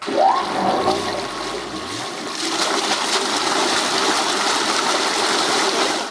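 Water from a solar-powered tubewell on a farm gushes and splashes in a loud, continuous torrent close by, swelling after the first couple of seconds and then holding steady without a break.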